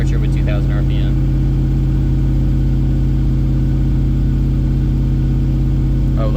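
A Land Rover engine holds a steady 2,000 RPM with a loud, continuous drone, while a voice speaks briefly near the start and end.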